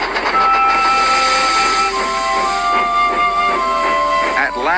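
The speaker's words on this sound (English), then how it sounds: "Gordon and Percy puffed through the snowy countryside, and Gordon didn't show off once." Steam locomotives puff through snowy countryside, with rhythmic chuffing and a sustained, tonal whistle over the rolling rail noise as a narrator speaks.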